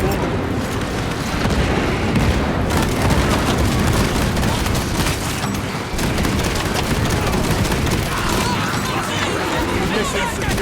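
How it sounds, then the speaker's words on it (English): A frag grenade blast and a battle of gunfire in the video game Warhammer 40,000: Space Marine 2 form a loud, dense barrage of booms and rattling shots, with a voice heard over the din. "Frag grenade deployed"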